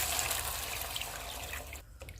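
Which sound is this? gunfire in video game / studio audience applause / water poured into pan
water poured into pan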